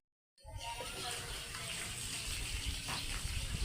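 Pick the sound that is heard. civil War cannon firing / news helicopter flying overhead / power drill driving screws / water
water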